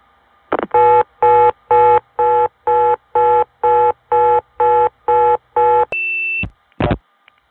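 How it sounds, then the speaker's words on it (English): Telephone reorder tone on a long-distance line after a centralized intercept operator hangs up, a 1976-77 step tandem exchange: about eleven evenly spaced loud tone bursts, then a brief steady higher tone and a click, no voices. "Getting a reorder when centralized intercept hangs up is very unusual"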